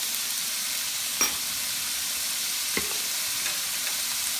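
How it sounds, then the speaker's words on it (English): Minced garlic frying in a pan for pork binagoongan, a constant bright sizzle up close with two or three sharp scrapes of a spoon stirring against the pan. "Now we're gonna add our minced garlic."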